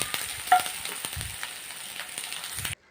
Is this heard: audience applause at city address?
no